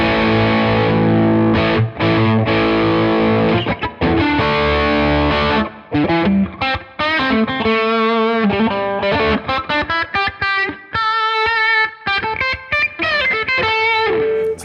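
Enya Sonic Go electric guitar with its neck pickup coil-split to single coil, played through distortion and effects: loud strummed chords, then picked single-note runs and riffs, with no talk.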